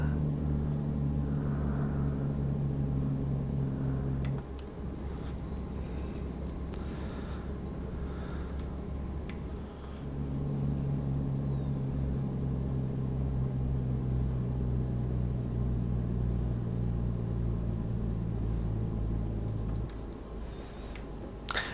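A Peterbilt 389 truck engine in American Truck Simulator drones steadily at close range, dipping twice as the revs drop between gear changes, with faint road and air noise above the constant low rumble.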